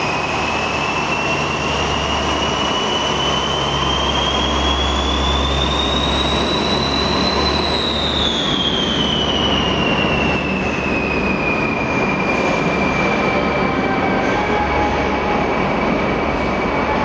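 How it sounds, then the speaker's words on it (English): Diesel locomotive 67519 hauls empty coaching stock toward carriage sidings, a loud, steady engine drone and rolling rumble with a high wheel squeal that rises and then slowly fades. "Strasbourg number 67519 heads for the carriage sidings with empty stock."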